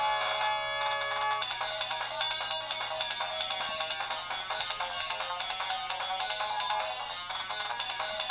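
Mega Drive game intro music plays through an X6 handheld emulator, a bright, electronic chiptune melody of tinny, ringing tones that starts abruptly and continues at steady volume without talk.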